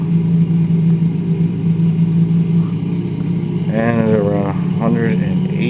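A Bf-109 engine drones loudly and steadily throughout with a constant low hum, and someone speaks briefly over it near the end.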